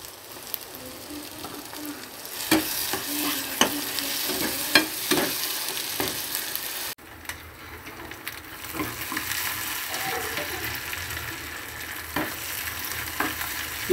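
Green chili paste with ginger-garlic paste fries in a pan for chicken curry, giving a steady soft sizzle broken by occasional stirring scrapes, with no talking.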